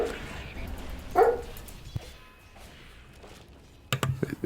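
A pet dog barking at home during an esports broadcast, a single sharp bark mid-way and a few yips near the end, faint and set behind a person talking.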